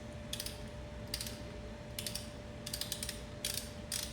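A ratchet loosens a factory lug nut on a Honda Civic wheel with quiet clicking bursts repeating at irregular intervals, close by over faint background hum.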